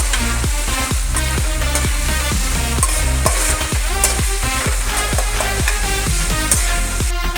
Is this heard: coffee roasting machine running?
no